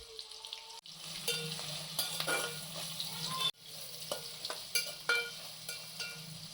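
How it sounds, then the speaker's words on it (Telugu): Onions, green chillies and carrot pieces fry in a pan while being stirred for mixed fried rice, giving a steady close sizzle broken by frequent scraping and clinking utensil strokes and a few sharper knocks, with no speech. "దాని తర్వాత క్యారెట్ ముక్కలు వేసుకొని బాగా తిప్పుకోవాలి"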